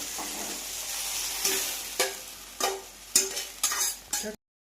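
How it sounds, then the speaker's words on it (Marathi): Okra frying in a pan with turmeric, a steady sizzle broken by several loud scraping stirs at regular intervals, close and with no voices. "त्याला मी 5 मिनिटांसाठी लाल होईपर्यंत मी फ्राय करणार आहे।"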